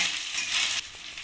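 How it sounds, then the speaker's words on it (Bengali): Chopped onion sizzles loudly in oil in a wok, a close, steady hiss that drops slightly after a stir midway, with no one speaking. "পেঁয়াজ কুচিটা একটু ভালো করে ভেজে নেব"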